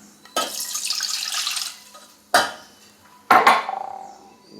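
Cup and a half of water poured into a pan for a pie filling, with clattering of a metal pan and utensils between bursts of splashing water, close and fairly loud.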